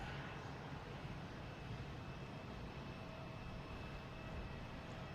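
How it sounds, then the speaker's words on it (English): Delta Airbus A330-900 airliner arriving at Boston Logan, a steady, distant broadband engine roar that holds evenly throughout without any voices. "All right, I see a plane coming in."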